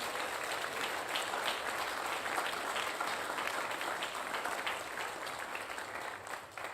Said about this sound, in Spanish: ¿Podemos soltar un fuerte aplauso más?